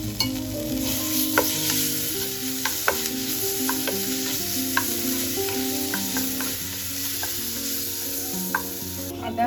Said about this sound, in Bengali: আদা রসুন দিয়ে ভালোভাবে ভেজে নিয়েছি